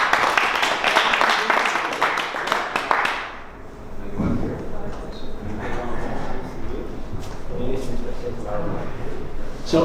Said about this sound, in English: So please a big applause for Patrick de Koning.